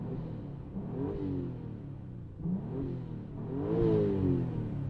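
An Audi B5 S4 with a budget aftermarket intake, revved three times while parked, each rise and fall in engine pitch clear and moderately loud with intake whoosh.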